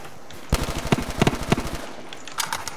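Automatic gunfire from a Black Ops 3 custom zombies map, several loud close bursts of rapid shots with short pauses between them, heard alone.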